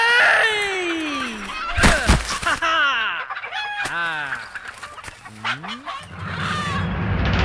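A chicken flaps and clucks loudly in agitated, squawking bursts while being chased, close to the listener, with rising and falling calls throughout and scuffling noise between them.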